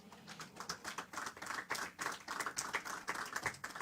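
A church congregation claps in praise, a fast, uneven patter of many hands in quick bursts, fairly faint and with no talk over it.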